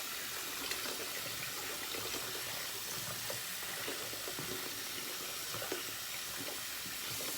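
Water worked into an ETHOS and CBL Fresh Lime collaboration shaving soap as it builds a lather, giving a steady wet, hissing swish with soft splashy bursts throughout, close by and fairly quiet.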